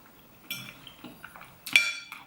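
Metal spoon and fork clink against a plate of chicken curry during a mukbang meal, a few light scattered taps building to one sharper bright clink near the end, close and fairly quiet with no talking.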